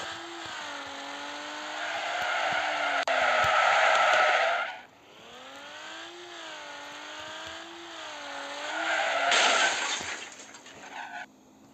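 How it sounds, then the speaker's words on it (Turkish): A video game car's engine drones and revs in rising and falling swoops, with a bright, harsh screeching burst, likely tire squeal during a drift, near the start and another toward the end. "drift konusunda birazcık çaylağım"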